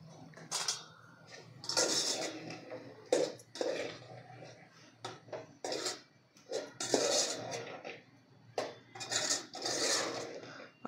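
Chicken curry with masala and a little coriander being stirred in a pan, the spoon clinking and scraping against the metal in irregular bursts, fairly close and moderately loud.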